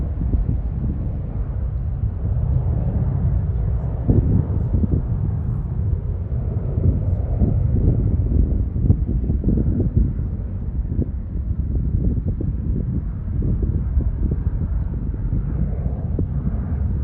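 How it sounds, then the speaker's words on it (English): A United Airlines Airbus A320 jet at Charlotte Douglas International Airport gives off a steady, muffled low rumble, mixed with wind noise and no distinct peaks. "Here we have a United A320."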